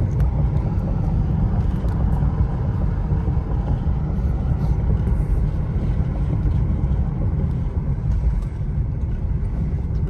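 Car driving through stormy rain and snow near Baldwin Lake and Big Bear, California, heard from inside as a heavy, constant road rumble with wind buffeting that stays loud and even throughout.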